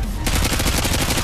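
Silenced TAR-21 rifle in Call of Duty: Modern Warfare 2, a team deathmatch on the Favela map, firing a loud, close, rapid automatic stream after a brief quiet start.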